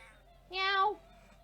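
A single cat meow, clear and close, rising then falling over about half a second against a quiet room.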